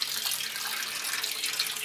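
Water pours steadily into a 75-gallon aquarium being set up, a constant close rushing splash with no pauses.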